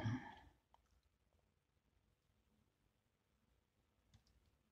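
Single keys tapped on a computer keyboard during Blender 3.0.1 animation work, heard as a couple of faint, sharp isolated clicks in a quiet room after a brief muffled rustle at the start.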